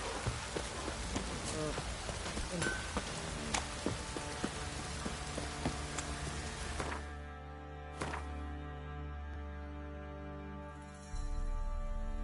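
Heavy rain pours in Witcher 3, a dense hiss of falling water that thins midway and gives way to a quieter ambient drone, with a brief clatter near the end.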